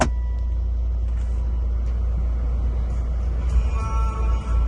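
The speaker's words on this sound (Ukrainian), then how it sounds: "Заводиться в нас півоберту." A Volvo XC diesel car with an automatic gearbox starts and settles into a steady, low engine rumble at idle, heard up close without speech.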